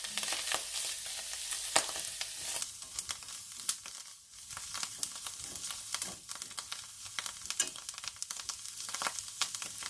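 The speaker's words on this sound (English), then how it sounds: "I like to play with my food, and so I stir constantly for about 3 or 4 minutes" A spoon stirs soup seasoned with herbes de Provence in a pot. Steady scraping and gentle sizzling continue with scattered clicks and crinkly bursts throughout, and no one speaks.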